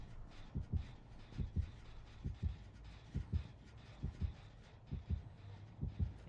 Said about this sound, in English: the heartbeat is still here.